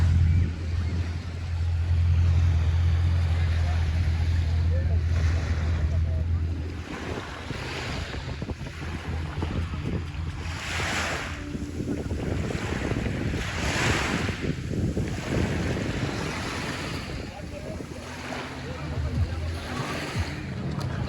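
Sea waves and gusty wind on the Syrian coast near Latakia, surf washing in repeated surges under heavy wind buffeting on the microphone, with faint voices in the background.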